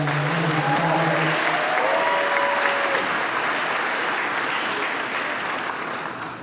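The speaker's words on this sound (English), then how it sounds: "Please give another round of applause for Reverend Henry Knox." A church audience at the Boston 250 launch in Roxbury claps loudly and steadily, the applause slowly fading toward the end while faint voices murmur beneath it early on.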